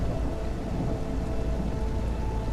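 Steady rain with rolling thunder from a video game's weather effect, a dense continuous downpour and low rumble holding level throughout, with no voices.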